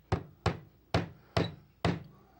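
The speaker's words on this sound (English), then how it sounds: "Here, you want to nail that last one? Hammer it." Five sharp hammer strikes drive a round-top nail, spaced about half a second apart, each a crisp wooden thunk with a short decay, close and moderately quiet with no talking.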